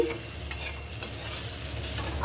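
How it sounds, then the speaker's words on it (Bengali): Carrots, potatoes and onions fry in a pan with a steady close sizzle and crackle, broken by a few stirring scrapes, and no voices. "এখানে হচ্ছে গাজর আলু পেঁয়াজ দিয়ে ভাজা করছি"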